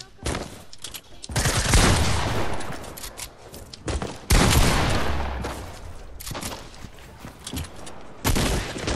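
Bursts of heavy gunfire in a squad shooter video game, with loud shotgun-like blasts arriving in several separate clusters between quieter gaps, and a voice heard faintly in the background.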